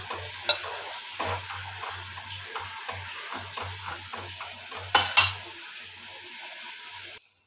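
Semiya (vermicelli) upma is stirred in a pan, Telangana style: a soft sizzle sits under repeated spoon scrapes and a few sharp metal clinks before it cuts off.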